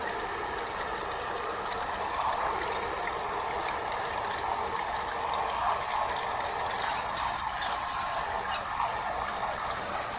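A portable off-grid camp shower sprays water from its hose in a steady, even hiss close by, continuous and unchanging across the whole stretch.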